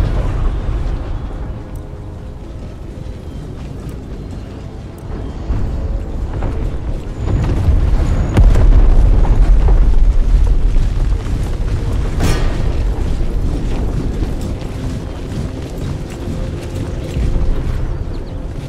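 Cannons fire on an Empire: Total War battlefield with a string of heavy booms and sharp cracks over a deep, rolling rumble that swells in the middle and lingers.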